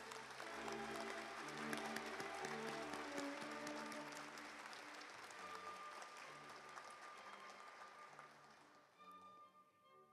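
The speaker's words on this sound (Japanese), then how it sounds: "会場の皆さんの盛大な拍手をお願いいたします。" Graduation ceremony audience at Kanagawa University applauding in a large hall, a sustained, even roar of many hands clapping that tapers off near the end, heard at a low recording level.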